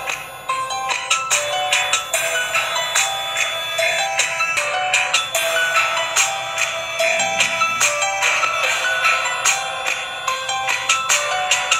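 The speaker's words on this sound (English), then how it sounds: "If there's slight movement over the dome, then the buzzer will ring and the LED will glow." The buzzer alarm of a PIR motion sensor circuit built on a breadboard rings loudly and continuously, chirping in a rapid repeating electronic pattern close up.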